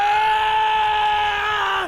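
Bestial rage scream from the game Hundred Line Last Defense Academy, a single loud, sustained harmonic howl held for nearly two seconds before bending downward and cutting off.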